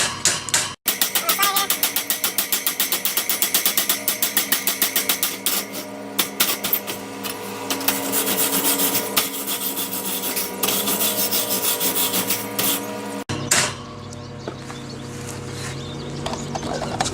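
Rapid metallic chipping and scraping of slag from a stick weld made with a Hobart Stickmate LX 235AC/160DC, a dense run of sharp close strikes that goes on for most of the clip, then stops.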